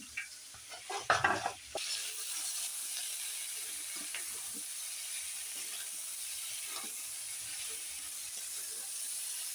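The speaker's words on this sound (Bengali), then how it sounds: "লাল লাল করে ভেজে নেব।" Food frying in a pan during curry cooking, a steady close sizzle and hiss throughout, with a burst of stirring and clatter near the start.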